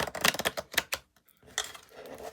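Tarot cards being shuffled by hand, a run of quick crisp riffling and slapping bursts up close, then a short pause before softer rustling resumes.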